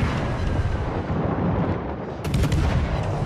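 Naval artillery shells fire in World of Warships: Legends, a dense, continuous roar of heavy booms with a louder burst near the end, steady and close with no talk.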